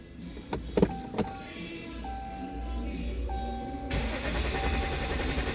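A 2016 Dodge Ram diesel that cranks but won't start: a few clicks and a whining electric hum, then a rougher, louder churning of the starter turning the engine over without it catching.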